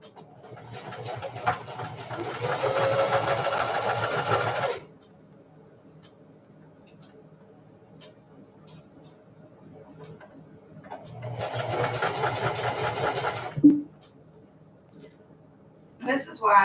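A home sewing machine stitching in two separate bursts of several seconds each, a steady mechanical whir with quiet gaps between and a sharp click near the second burst; a voice speaks over it.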